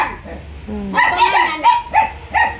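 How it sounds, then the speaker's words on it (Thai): A dog barks several times in short bursts, fairly close, with a brief spoken word mixed in. "คือสิได้ยินแต่เสียงหมาเห่า"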